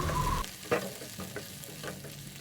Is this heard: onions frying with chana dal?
yes